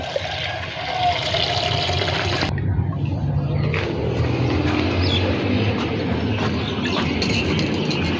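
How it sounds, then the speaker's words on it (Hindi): Water runs and splashes steadily as plants are watered at home, a continuous gushing flow with a brief quieter dip before resuming, fairly loud and close. "फिर बाकी पौधों को भी पानी दे लेंगे।"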